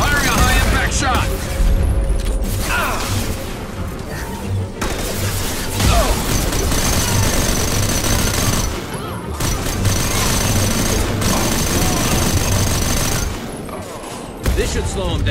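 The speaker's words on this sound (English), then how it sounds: "Firing a high impact shot." Heavy gunfire and booming impacts from a high impact shot in the video game Mass Effect 2, loud and continuous across a dense combat mix of bursts and crashes.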